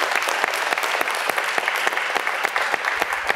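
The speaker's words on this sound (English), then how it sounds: "let's give these guys a round of applause." Audience applause at a school district board of education meeting, a steady dense clapping from a room of people that holds loud and even throughout, with no talking over it.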